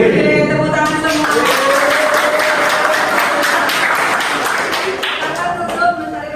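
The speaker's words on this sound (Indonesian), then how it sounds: "Oke, tepuk tangan semua." A class of students claps hands together during a classroom guidance session, a loud and steady burst of clapping mixed with excited young voices calling out.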